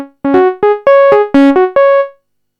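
A Waldorf Blofeld synthesizer template patch plays a short run of about eight bright, buzzy notes, each with a sharp attack and a quick decay, stepping through different pitches before falling silent. No one talks.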